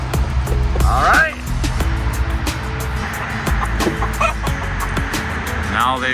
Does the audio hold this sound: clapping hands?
no